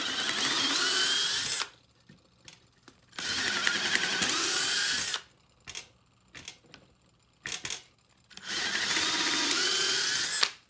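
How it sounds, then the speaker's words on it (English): A power drill whirs through wood in three sustained bursts, widening a pilot hole with a larger bit, separated by quieter pauses with a few brief knocks and short spins. "step up the pilot bit a little bit larger and drill a hole"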